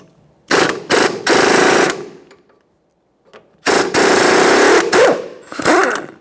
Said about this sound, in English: For this, I'm going to be using a 22mm socket on my air gun.